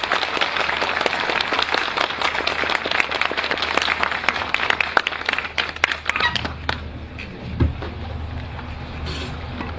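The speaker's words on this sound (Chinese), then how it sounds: "下面我们用热烈的掌声" A lecture audience at Xibaipo breaks into warm applause to welcome a speaker, a dense, steady wash of many hands clapping for about six seconds before it thins out and fades.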